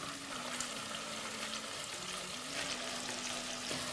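Tomato and peppers sauté in a hot pan, a steady close sizzle and crackle of frying vegetables running unbroken with no talking.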